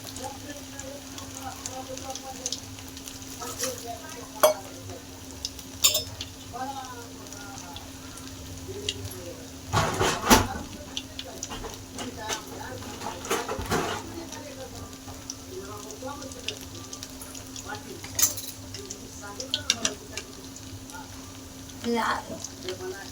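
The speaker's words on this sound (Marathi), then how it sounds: "मी तीन तीनच टाकून तळून घेते" Chicken lollipops fry in a pan of oil three at a time, giving a steady soft sizzle and crackle with occasional pops, while someone talks over the cooking.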